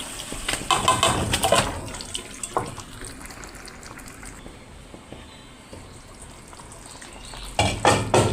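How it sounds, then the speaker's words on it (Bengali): Marinated chicken hits hot spice paste for Hyderabadi chicken kosha, sending up a loud sizzle at first that settles to a softer, steady frying hiss before another sharp burst of sizzling at the end. "এখন আমি ম্যারিনেট করা মাংসগুলো দিয়ে দেব"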